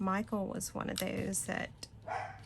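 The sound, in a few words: dogs barking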